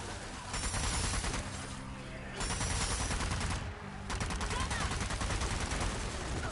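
Rapid bursts of gunfire hit zombies in the Zombie Army 4 co-op shooter, loud and close, with two short pauses between strings of shots and players' voices mixed in.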